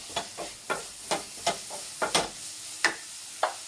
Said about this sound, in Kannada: ಹಸಿಮೆಣಸಿನ್ಕಾಯಿ ಪುಡಿ, ಇದು ಚೆನ್ನಾಗಿ ಫ್ರೈ ಮಾಡ್ಕೊಳ್ಳಿ